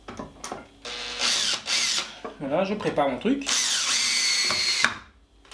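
A power drill drives a screw to reattach a wooden furniture leg, whirring in several bursts that start and stop close by while someone speaks between them.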